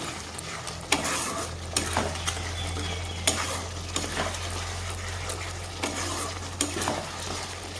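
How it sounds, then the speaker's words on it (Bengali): Spices stir-fried in a pan with a steady sizzle and repeated scraping strokes of a spatula, close and clear over a low constant hum. "মশলাটাকে আমি সুন্দরভাবে কষিয়ে নিব"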